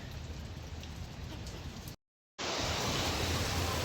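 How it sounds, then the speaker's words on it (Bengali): Steady rain falls in a rural yard, a dense even hiss of drops, briefly cut off then resuming louder and closer. "তো এখন বোধহয় আবার আল্লাপাক বৃষ্টি শুরু করছেন আর কি।"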